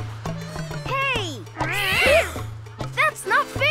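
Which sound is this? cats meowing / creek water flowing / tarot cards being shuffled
cats meowing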